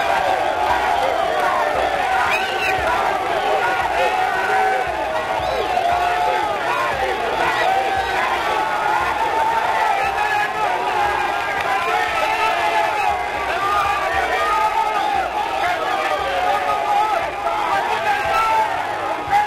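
Dense crowd of party activists, young and old, welcoming the DR Congo president and first lady at an airport, a continuous loud babble of voices with shouts and cheering throughout.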